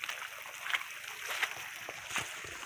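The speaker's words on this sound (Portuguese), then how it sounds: "Tem um cano aqui já solto, vazando água." Water leaks from a loose irrigation pipe in a sugarcane field, a continuous splashing, gurgling flow heard up close with irregular surges.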